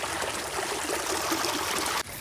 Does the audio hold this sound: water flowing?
yes